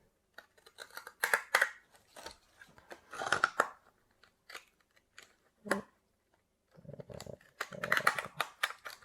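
Scissors cutting a paper gift tag pattern along pencil lines: irregular bursts of crisp snipping and crunchy slicing, close and clear, separated by short pauses.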